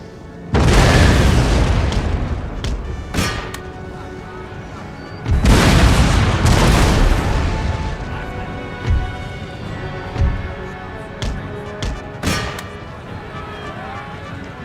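Artillery fire in the Total War Empire video game, with several heavy booming blasts spaced a few seconds apart, each decaying into a rumble, plus smaller pops between them.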